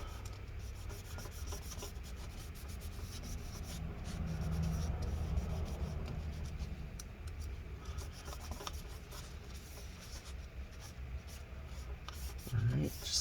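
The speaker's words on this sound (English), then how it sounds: "rubbing alcohol, isopropyl alcohol. Just make sure this is all cleaned up." Inside a 13-inch MacBook Pro A1708, internals are wiped with isopropyl alcohol, making soft continuous rubbing and scrubbing strokes up close, with a slightly louder stretch midway and a brief bump near the end.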